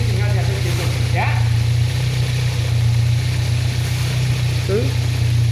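A Toyota Corona EFI engine on a test stand runs at a steady low idle, a loud constant hum with a slight throttle adjustment, while people talk nearby.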